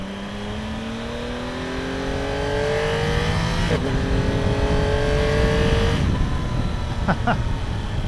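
A 2024 Yamaha MT-09 motorcycle with an acoustic amplifier intake revs up through several quick-shifter gear changes on a road, the pitch climbing and dropping abruptly at each shift, loud and close, with no talking.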